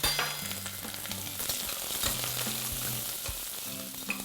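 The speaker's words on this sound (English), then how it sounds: "I'm going to add 1 small onion, finely chopped, and saute this till it's nice and soft and pink." Finely chopped onion sautéing in hot oil for mutton curry, a steady close sizzle with crackles and light stirring, a low tonal hum running underneath, no speech.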